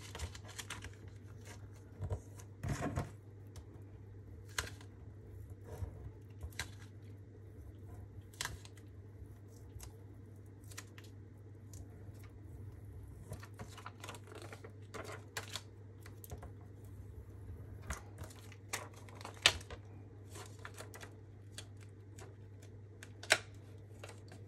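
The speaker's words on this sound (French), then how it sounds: "je biseaute, je marque mes plis" A scrapbooking card is bevelled and scored along its fold lines, making sparse, light taps and scrapes that repeat irregularly over a steady low hum in a quiet room.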